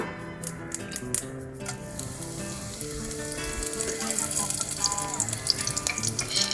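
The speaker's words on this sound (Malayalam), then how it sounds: "ഈ കടുകൊന്ന് പൊട്ടാൻ തുടങ്ങുമ്പോഴേക്കും നമുക്ക് ഇതിലോട്ട് കറിവേപ്പില ചേർത്ത് കൊടുക്കാം" Mustard seeds and curry leaves sizzling in hot coconut oil for Kerala-style chicken liver fry, a dense bright crackle that grows busier and louder, with scattered sharp spatters and faint utensil clinks.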